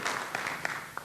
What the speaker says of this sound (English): let us give a round of applause to Mr. George